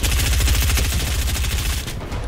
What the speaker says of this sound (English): I missed the shotgun shot